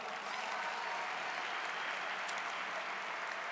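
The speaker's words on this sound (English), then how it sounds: "So let's give them another round of applause" A commencement ceremony audience at John Jay College applauds, a steady, even wash of many hands clapping that continues without a break and sounds somewhat distant.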